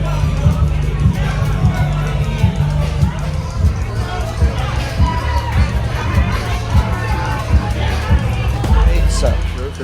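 Weekend crowd at the Turtle Tap bar in Beloit fills the space with steady, loud chatter and overlapping voices, occasional shouts rising out of the dense babble throughout.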